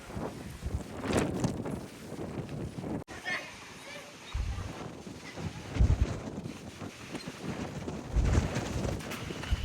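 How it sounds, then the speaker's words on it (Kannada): Strong gusts buffet the microphone on top of the Chitradurga stone fort, a rough roaring rumble rising and falling over nearly ten seconds while someone talks over it. "ತುಂಬ ಗಾಳಿ ಇದೆ"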